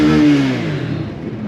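A mini bike engine revs up loud and close, its pitch rising then falling and settling into a rough idle with some clatter, no voices.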